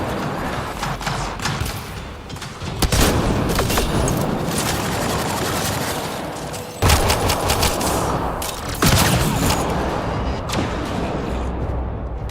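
Sustained turret gunfire in a sci-fi video game, a dense continuous barrage of rapid shots with heavier booming bursts standing out partway through, loud and unbroken for the whole stretch.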